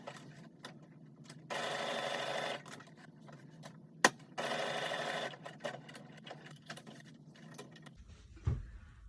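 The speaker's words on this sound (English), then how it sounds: "So I'll pin and just sew back and forth to hold the elastic together." A sewing machine stitches elastic on a hair bonnet in two short steady bursts of rapid whirring, separated by a sharp click and quiet handling, with a soft thump near the end.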